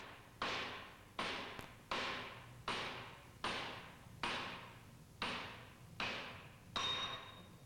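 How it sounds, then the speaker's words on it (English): A plastic hammer taps a metal bearing case during a purifier overhaul, eight evenly spaced, sharp knocks with short ringing decays, moderately close and alone. "Tap the bearing case carefully with a plastic hammer to prevent damage"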